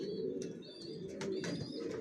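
Young Johnson-line racing pigeons coo close by, soft repeated throaty calls over a steady low murmur with a few higher chirps.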